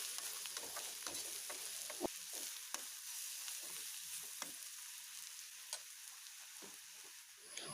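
A soybean dish being stirred and mixed in a pan, with a soft, steady frying sizzle broken by scattered spoon clinks and scrapes against the metal.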